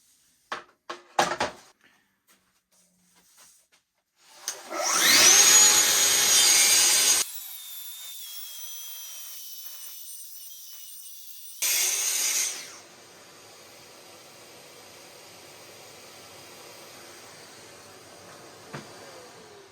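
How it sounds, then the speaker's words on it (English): Festool TSC55 K plunge saw fitted with a 1.8mm blade cutting through wood, with two loud bursts of rasping sawing separated by quieter motor whine, preceded by a few clicks and handling knocks. "We're going to run it in the kickback saw to see what the difference is between the two blades."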